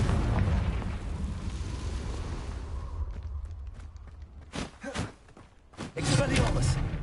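A Confringo blasting spell in Hogwarts Legacy bursts with a heavy rumbling explosion that fades out, followed by sharp thuds and crackling impacts as a voice talks.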